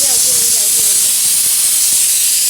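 A pressure cooker vents steam in a steady, loud hiss that fills the whole clip, with faint voices talking underneath.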